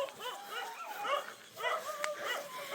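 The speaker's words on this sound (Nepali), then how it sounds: "ल कुकुर आयो, उसको मम्मी आयो।" A mother dog near her puppy in a forest, giving short yips, whimpers and small barks in a quick uneven series, fairly close and moderately loud.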